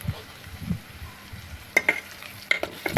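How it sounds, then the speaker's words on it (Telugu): Onions for a Telugu egg curry fry in a pan, a soft sizzle under scattered spoon clinks and stirring scrapes that grow sharper in the second half. "ఇలా కొంచెం ఉల్లిపాయ మగ్గే వరకు వేయించండి."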